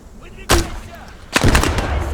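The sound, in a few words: enemy machine gunner firing in a video game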